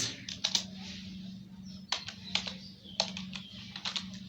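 Python code being typed on a computer keyboard, heard as scattered bursts of close, crisp key clicks with short pauses between groups, set over a steady low hum.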